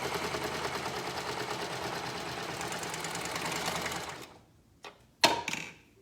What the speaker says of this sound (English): I'm just gonna serge that off as I sew this into a circle